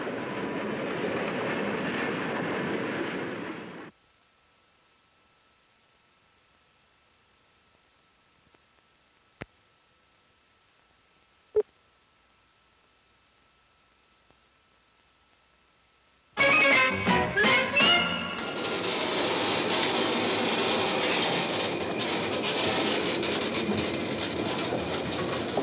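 Freight train railroad cars rolling in the Radnor hump yard in Nashville, Tennessee, with a steady rumble and clatter, a long stretch of near silence broken by two sharp clanks, then loud, close rolling and squealing resumes.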